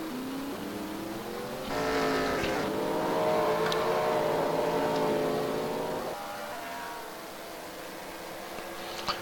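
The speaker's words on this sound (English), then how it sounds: "we're enjoying these 4 cars battling each other" Race cars battle on track at Mosport. A loud engine roar swells in as cars approach and pass, holds for several seconds, then fades to a lower, more distant drone as they move away.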